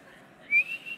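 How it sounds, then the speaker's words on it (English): A single person whistles loudly in a conference hall at a medical simulation meeting to call the crowd to their seats, a brief rising tone over steady background chatter of many people. "I don't whistle very well."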